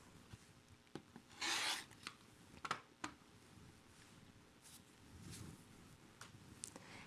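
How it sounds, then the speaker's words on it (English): A QuiltCut2 fabric cutter trimming the selvage off quilting fabric: faint, soft rasping strokes and light scraping ticks, quiet and close. "cut off my selvage"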